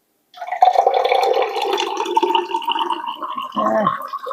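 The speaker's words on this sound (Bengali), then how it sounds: "চলো এবার এর মধ্যে জল দিই" Water pours into a glass holding two spoonfuls of a homemade drink mixture, a close, bubbling gurgle whose pitch rises as the glass fills, then a short splashy burst near the end.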